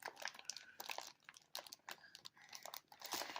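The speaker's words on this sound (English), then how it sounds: "go ahead and open this package. Okay. Peel that open." A plastic package being peeled open, with crinkly crunching and tearing bursts coming in quick irregular spurts, close and fairly quiet.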